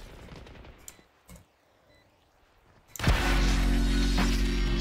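A single loud gunshot in the game Valorant cracks out after a few quiet seconds of faint game sounds and clicks, followed by a sustained loud tone.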